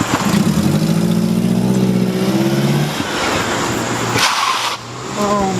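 A lightened Mitsubishi car with its muffler removed driving off, a loud raspy engine note rising through the gears, then a brief dip and a renewed rumble nearby.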